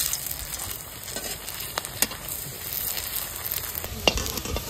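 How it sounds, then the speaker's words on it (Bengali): Soybean muitha fries lightly in a pan, making a steady close sizzle with occasional stirring clicks and scrapes. "এখন আমি এটা ভেজে নিচ্ছি, হালকা করে ভাজবো।"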